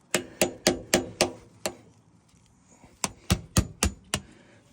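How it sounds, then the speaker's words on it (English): A chisel-style decorator scraper strikes and scrapes at an old gasket on a Land Rover Defender Salisbury differential, giving a rhythmic run of about six sharp close knocks, a short pause, then five more. "So it's sort of just a window chisel, sort of decorator scraper"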